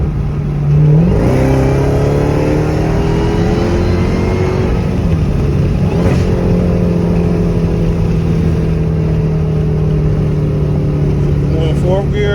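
A Dodge SRT accelerates hard while racing a Dodge R/T, its engine droning loud and steady with harmonics that climb and then drop through a gear change, holding strong for the whole stretch.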